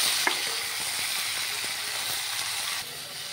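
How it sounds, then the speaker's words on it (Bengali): Vegetables for Bengali shukto sizzle in hot oil in a wok after browned onions, a steady close frying hiss with faint stirring clicks throughout, no voices. "এবার সবজিগুলো আমি ছেড়ে দেবো।"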